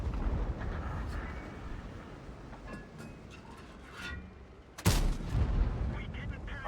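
Tank cannon fire in a tank video game with the XM66F, one heavy booming blast near the end that rises sharply over a constant rumbling engine and battle noise.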